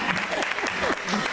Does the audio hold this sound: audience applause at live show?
yes